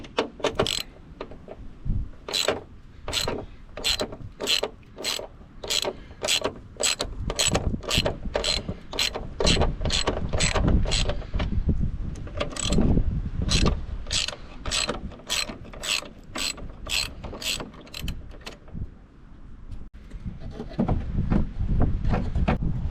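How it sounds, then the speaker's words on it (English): Ratchet clicking repeatedly while a breaker bar works loose a stiff suspension bolt on a Nissan 300ZX twin turbo, sharp rhythmic ticks in quick runs over low scraping and creaking, fairly close. "which should give me access to get a breaker bar on that bolt"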